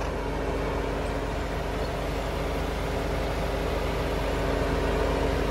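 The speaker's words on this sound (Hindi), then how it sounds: "तो इंजन साउंड सुन लो" Kia Carens 1.5 diesel with manual gearbox idling, a steady low engine drone with a constant hum and no change in pitch, heard close and alone throughout.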